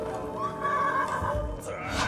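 A horse neighs in the Trek to Yomi video game, a loud whinny rising and falling over a couple of seconds, with faint clip-clop and game noise underneath.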